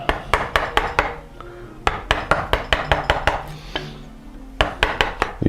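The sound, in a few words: chopping out waste wood along a sawn kerf, gooseneck molding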